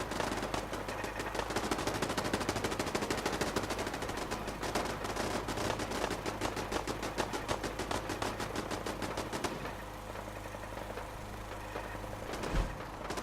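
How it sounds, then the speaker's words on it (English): Automated turrets fire in the Fallout 4 video game, rattling out long rapid bursts of machine-gun fire, close and loud, that break off near the end. "So you'll see the turrets attack that side."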